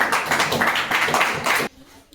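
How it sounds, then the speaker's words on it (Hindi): A classroom group claps briskly for a contestant's correct answer in a Hindi-medium class 10 maths quiz. The dense hand-clapping runs for about a second and a half and then stops abruptly into quiet. "इनके लिए ताली हो जाए।"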